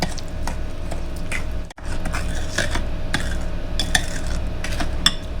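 A utensil stirring Just egg substitute in a bowl for brownie batter, making quick, rhythmic tapping and clicking against the bowl over a steady low hum, close by and with no speech.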